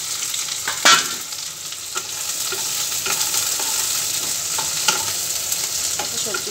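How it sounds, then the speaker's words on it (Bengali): Vegetables fry in ghee in a wok, a steady loud sizzle running throughout, broken by occasional scraping stirs and clinks of the spatula. "এবার আমি সবজিগুলো দিয়ে দেবো।"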